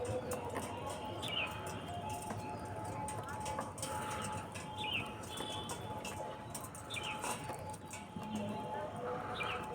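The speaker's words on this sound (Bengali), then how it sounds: "নর পায়রা এটা" Faint male pigeons cooing in a loft among several birds, soft repeated low coos under handling noise and background rustle, with no speech heard.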